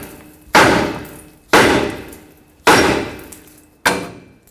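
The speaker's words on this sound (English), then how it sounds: "Now take a hammer and tap the knuckle right here so the tie rod stud can break free." Four sharp metallic hammer strikes on a steel steering knuckle of a 2009-2014 Ford F-150 4x4, evenly spaced about a second apart, each ringing briefly before fading; loud and close with no talking.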